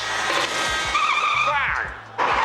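A car skids in a crash scene, a loud tire squeal sliding down in pitch over a steady engine roar, with a brief lull and then a return of noise, while a voice speaks at the same time.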